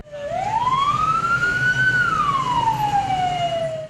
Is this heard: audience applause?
no